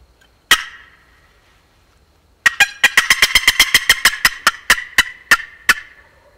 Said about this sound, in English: There's another bird that gobbled right in here pretty tight.